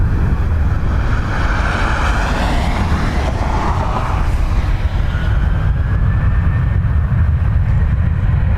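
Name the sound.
airplane taking off from runway 10 right at Dublin Airport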